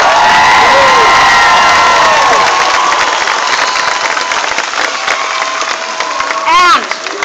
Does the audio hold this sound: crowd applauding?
yes